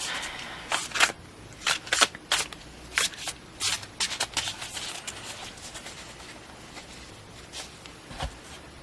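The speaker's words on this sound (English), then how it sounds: "I wanted to shuffle them a little bit" A deck of tarot cards themed with sea captains, boats and pirates is shuffled in several short, crisp riffling bursts with brief pauses between them. It is fairly soft and close, with no talking.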